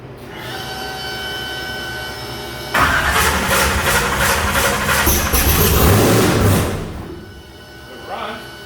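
An engine cranks and catches during burnout preparation, roaring loud and close for several seconds before settling back down; voices speak over it.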